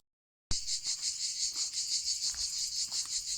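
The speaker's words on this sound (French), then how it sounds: "je suis accompagnée par les grillons, le chant du grillon." Crickets chirp in a steady pulsing trill on a rural walking route between Cahors and Lascabanes in southwest France, close and continuous after a silent start, with no talk.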